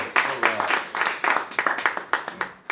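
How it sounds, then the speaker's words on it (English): An audience applauds keyboard player Matt King at a jazz story hour in a small venue, with moderate scattered clapping that thins out toward the end, while voices murmur underneath. "Give him a big round of applause"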